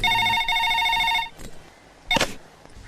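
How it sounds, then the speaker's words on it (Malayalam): A telephone rings during a Malayalam comedy film scene, a bright ringing burst for about a second, then a short pause and a brief noisy clatter before it fades. "എങ്കിൽ ആ ഫോൺ എടുത്ത് കറക്കടാവേ."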